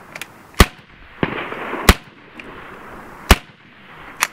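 A BIN TAC S45 semi-automatic air rifle fires a string of sharp, loud, close-up shots at irregular intervals, about four or five cracks in a few seconds, with no voices.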